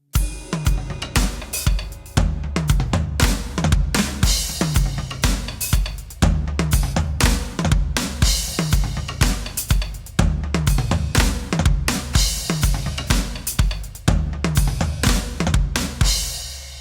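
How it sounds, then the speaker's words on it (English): Drum kit playing a steady groove that alternates with a tom and kick drum fill; busy, loud, close-miked hits with the kick pulse running continuously throughout. "If you play the groove alternating with the fill, it sounds like this."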